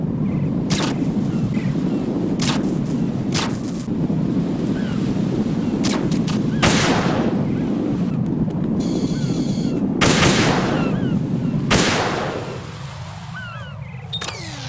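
Gunfire from the Metal Gear Solid 2 video game cracks out in sharp, loud bursts over a constant rushing wind-like background, with several separate shots spaced irregularly across the scene.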